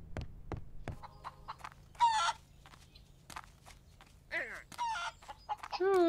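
Chickens cluck in the video game Barn Finders. Short squawks and clucks come in scattered bursts with sharp clicks between them, fairly close and moderately loud, with no speech.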